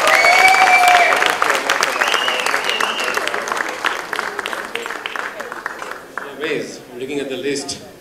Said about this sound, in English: give a big round of applause for the event.